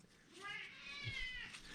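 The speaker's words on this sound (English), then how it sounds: "My cat, whenever I'm on the phone or I got the camera, he knows to be loud." A male house cat meows loudly at close range in one drawn-out, wavering call, while a person talks quietly underneath.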